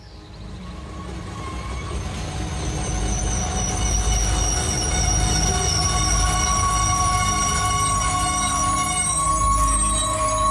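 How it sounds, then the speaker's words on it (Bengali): A train running on rails and rolling into a station, heard as a steady loud rumble with wheel squeal and rail noise throughout and no talk, made as an audio drama sound effect. "আমাদের ট্রেন যখন বেথুয়া ডহরি স্টেশনে এসে থামল"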